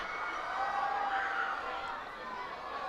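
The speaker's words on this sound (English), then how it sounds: "If you hear a lot of cheering in front of me, it's not for the home run for the opponents." Crowd cheering for the Fightin Phils mascot Screwball at a Reading Fightin Phils minor league baseball game, a steady broad roar of voices and shouting at a distance with chatter mixed in.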